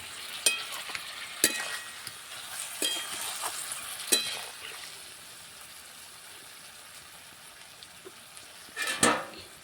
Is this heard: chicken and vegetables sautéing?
yes